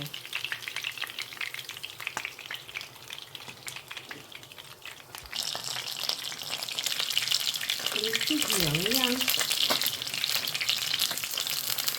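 Fish fries in hot oil with a continuous close sizzle that grows louder and denser midway, with some stirring and utensil clatter, no speech.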